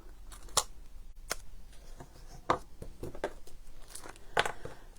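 Scissors snip through a paper label in a few sharp, close cuts spaced across a few seconds, with light paper rustling between them.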